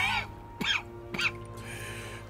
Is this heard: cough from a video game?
yes